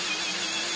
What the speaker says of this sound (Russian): рассверливать втулочки под резьбу проще и быстрее шуруповертом, чем реально станком